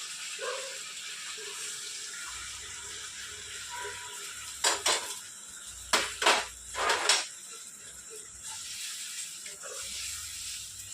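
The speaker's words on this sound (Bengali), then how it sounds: "এই গরম জলটা মধ্যে ঢেলে দেবো।" Hot water poured into a pressure cooker of mutton curry gives a steady hissing splash, broken midway by a few sharp clanks of metal pots and utensils, with no talk.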